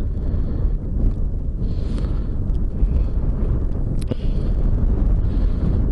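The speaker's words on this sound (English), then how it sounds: "it's windy, so it's like windy and snow in the air and stuff" Steady wind buffeting an outdoor helmet microphone, with snow blowing through the air, giving a continuous loud low rumble that runs through the whole stretch, with one brief sharp knock near the middle.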